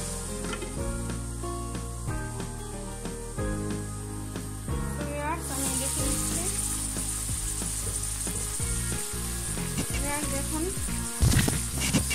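Shrimp and ash gourd sauté in a pan with a steady sizzle and occasional stirring scrapes, running under a tonal musical background that grows brighter and hissier partway through.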